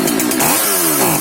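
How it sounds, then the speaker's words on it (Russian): A petrol chainsaw under repair for a no-start fault runs steadily at close range, its loud buzzing engine note rising and falling slightly with the throttle, with no talk over it. "Вот как видите, бензопила работает,"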